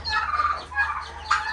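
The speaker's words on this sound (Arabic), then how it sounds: "الرومي بتاعنا كبر ما شاء الله" A growing domestic turkey gobbles loudly and close by in a backyard poultry setting, a rapid warbling burst followed by a second call, with no talking.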